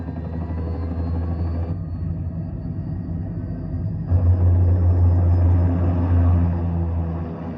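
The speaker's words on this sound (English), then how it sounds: "Commencing takeoff in semi-auto mode." An aircraft takes off in the video game Metal Gear Rising, its engines making a steady, close, heavy roar that swells louder partway through.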